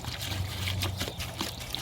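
Vinegar pouring over rusty heavy tools in a container, a steady liquid trickle and splash running close and continuous throughout, with no voices.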